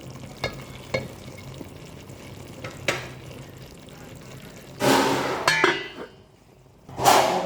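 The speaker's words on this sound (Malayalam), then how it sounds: "തൈര് പുളിക്ക് ഇനി നമുക്കത് മിക്സ് ചെയ്യാം" Avial with curd is stirred in a pot. A few light scraping strokes come first, then louder, rougher bursts of a spoon churning through the thick mixture, close by with pauses between them.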